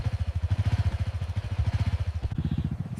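A motorbike engine runs close by with a steady, throbbing pulse that shifts near the end, as if pulling away.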